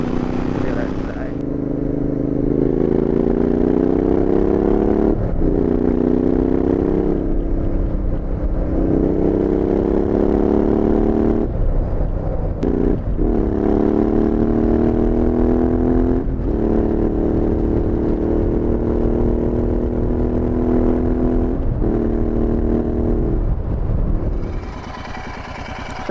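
Royal Enfield Interceptor 650 twin-cylinder motorcycle exhaust while riding, a loud continuous engine note that rises through gears with brief dips at shifts, steady throughout with no talk.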